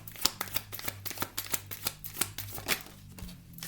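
Tarot cards are drawn and handled from a deck in a quick series of crisp, close flicks and slaps at an irregular rhythm.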